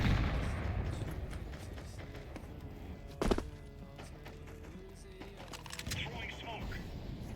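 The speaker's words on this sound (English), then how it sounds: "Throwing a grenade." A grenade detonates in a tactical shooter match, a sharp broadband burst landing about three seconds in over constant low game noise and scattered gunfire-like clicks, with a weaker rumble near the end.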